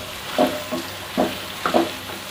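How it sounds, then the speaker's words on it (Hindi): Chicken frying with garlic, ginger and garam masala makes a low, steady sizzle, broken by a few short scraping bursts as it is stirred. No voices. "चिकन को फ्राई होते हुए तकरीबन 7 मिनट हो चुके हैं"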